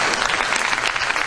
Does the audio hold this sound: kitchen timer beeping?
no